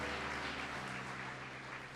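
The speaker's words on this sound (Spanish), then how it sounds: "Con un fuerte aplauso le digamos a la gente que les esperamos" A church congregation applauds together during an evangelical service, the clapping a soft, even wash heard from a distance over a faint low hum, with no talking.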